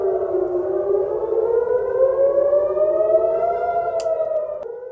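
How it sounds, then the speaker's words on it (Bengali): Civil defense air raid sirens wail steadily across northern Israel, a loud sustained rising and falling tone with layered harmonics, heard alone with no talk. "অঞ্চলে বিরামহীনভাবে সাইরেন বাজানো হয়"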